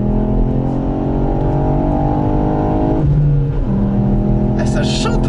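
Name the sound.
Ford Fiesta ST 2018 three-cylinder engine accelerating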